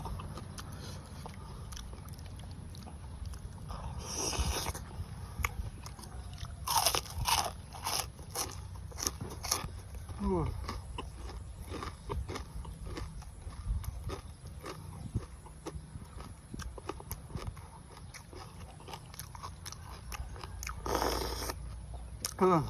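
Crispy pork rinds being crunched while eating fresh pounded shrimp salad with raw vegetables: faint, irregular crunchy bites and chewing come close to the mic, with a voice heard at times.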